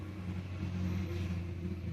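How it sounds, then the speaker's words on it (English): Road traffic passes outside a room as a steady low rumble of car engines with a faint rising rev, continuous and muffled at a distance. "I'm sorry for the traffic sound outside"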